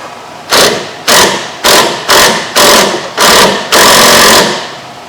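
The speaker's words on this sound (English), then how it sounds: "I'm gonna use my impact" An impact wrench hammers at a sway bar end link nut on a 2011 Honda Insight, firing in seven loud, close rattling bursts of about half a second each, the last one longer and sustained.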